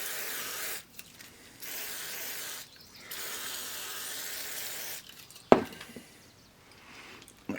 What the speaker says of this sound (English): I'm gonna spray down the whole deck, both sides